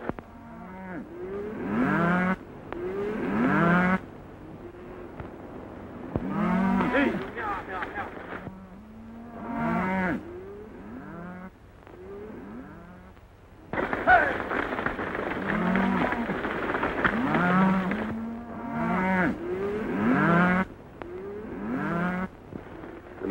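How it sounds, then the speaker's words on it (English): Cattle herd lowing on a cattle drive in a 1943 western film, with repeated drawn-out moos rising and falling one after another across the scene, fairly close and steady. "Nice bunch of cattle you're sending to market, Mr. Dawson."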